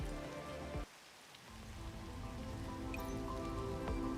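Looping rain sound effect from a video game, a steady hiss of rain on a surface that briefly cuts out and then resumes, continuing alone and fairly quiet.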